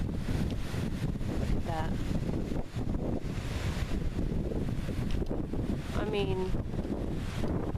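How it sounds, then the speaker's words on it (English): Strong gusty wind buffets the microphone on a blustery spring day outdoors, a steady loud roar throughout with a brief dip near the middle, while a person talks over it. "as you can see, it's massively windy today"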